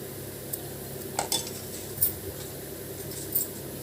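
Mango pieces drop into a pot of simmering sambar with a few light metallic clinks and clatters of a spoon against the vessel, scattered over a soft, steady background hiss.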